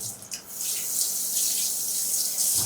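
Tap water runs steadily into a sink as hands are rinsed, a loud, continuous close-up hiss with no talking.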